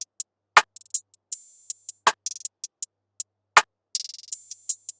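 Hi-hats and an open hat in an FL Studio trapsoul beat: crisp, bright ticking hits in a quick, uneven rhythm with short rolls, occasional sizzling open-hat wash, and a few deep kick thumps underneath, no voice.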